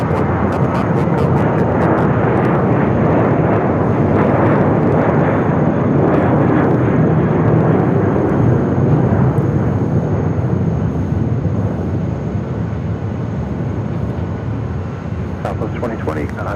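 An airliner takes off at Phoenix Sky Harbor airport, its jet engines roaring loud and sustained with a broad rumble, while radio chatter sounds faintly in the background.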